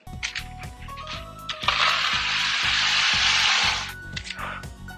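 Butter sizzling and spattering hard in a hot pan for mac and cheese, a loud steady hiss swelling in the middle over a repeating low rhythmic beat, with crackles before and after.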